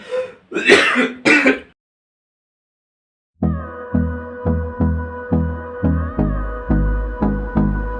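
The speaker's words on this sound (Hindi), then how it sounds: "खांस ले।" A person clears their throat in a few short, rough bursts up close. After a pause, rhythmic music with a steady pulsing beat comes in.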